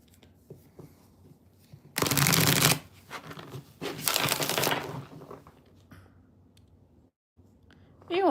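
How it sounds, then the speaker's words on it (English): Tarot cards shuffled by hand in two loud, close riffling bursts with quieter shuffling and clicks between them. "All right, let me just shuffle."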